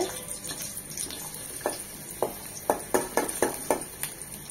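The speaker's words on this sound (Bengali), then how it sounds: "তেলটা গরম হয়ে এসেছে, দিয়ে দিচ্ছি একটা পেঁয়াজ কুচি" Chopped onion frying in hot soybean oil in a pan: a steady low sizzle broken by a quick run of sharp scrapes and taps as it is stirred, close and moderately loud, no speech.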